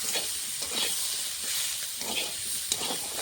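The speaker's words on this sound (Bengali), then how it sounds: "শাকগুলো অল্প একটু হয়ে গেছে ভাজতে ভাজতে আলুর সঙ্গে" Spinach stems frying with potatoes in a pan, a steady broadband hiss and sizzle with soft periodic stirring scrapes, close and fairly loud throughout.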